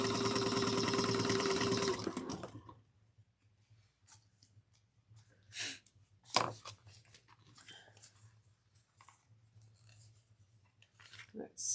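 A sewing machine stitches bag side pieces at a 1/4 inch seam allowance in a loud steady whir for about two seconds, then stops, leaving faint handling rustles and small clicks.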